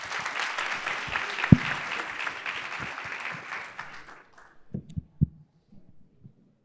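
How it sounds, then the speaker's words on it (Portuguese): Audience applause for a speaker at a career talk, a steady patter of clapping for about four seconds that stops abruptly, followed by a few scattered thumps and handling knocks. "Mais uma salva de palmas, por favor."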